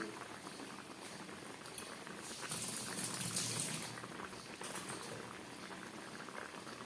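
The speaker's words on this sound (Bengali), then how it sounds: "ঝোলটা একদম ফুটে উঠেছে" Bata fish curry gravy boils in a pot, a dense, steady bubbling and popping that holds at an even level throughout, close up and without voices.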